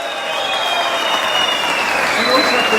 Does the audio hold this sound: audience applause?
yes